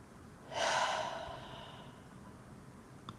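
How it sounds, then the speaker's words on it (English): One deep breath, a single audible inhale or exhale that swells and fades within about a second, close and fairly soft, followed by quiet room tone. "Let's take a deep breath together."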